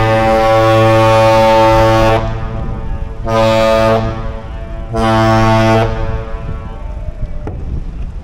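The lake freighter Michipicoten sounds its deep horn in three long harmonic blasts on arrival in the Duluth harbor, a loud booming Captain's Salute with short pauses between blasts, answered faintly by another horn at the end.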